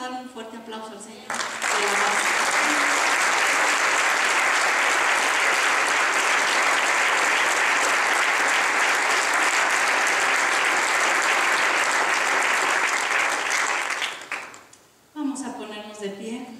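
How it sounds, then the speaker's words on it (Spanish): A church congregation breaks into loud, sustained applause that runs for about thirteen seconds, with a preacher speaking briefly before it swells and again after it fades. "Vamos a darle un fuerte aplauso al Señor."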